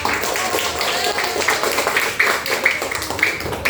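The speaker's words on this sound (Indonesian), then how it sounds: "tepuk tangan buat" A sixth-grade class in a math lesson claps hands together, a burst of sharp, uneven claps close by with some voices mixed in.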